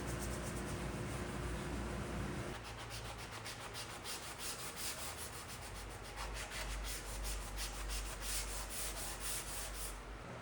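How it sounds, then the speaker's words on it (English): A wooden table top is sanded in a steady, continuous abrasive rubbing that stays close and even throughout, with no speech. "Then I sand the whole thing to ensure all the transitions are smooth."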